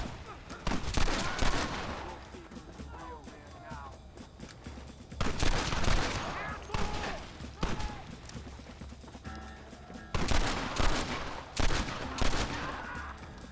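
A shootout in the video game Red Dead Redemption, with dense, loud bursts of overlapping gunfire coming in waves, mixed with shouting voices throughout.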